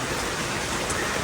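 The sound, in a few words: rain falling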